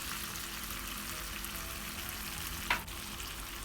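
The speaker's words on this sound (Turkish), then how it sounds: "Şimdi üzerine yarım su bardağı kaynar su," Boiling water splashes onto sautéed vegetables and meat in a pan, a short hiss and burst of sizzle over a quiet, steady frying crackle, close and soft.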